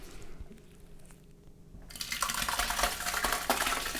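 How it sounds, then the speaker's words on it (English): Chopped green peppers for hot sauce are tipped from one pot into a larger stock pot, with quiet clinks followed by a louder clattering, sliding wet rush close by and no speech. "so I'm going to put it into this even bigger stock pot."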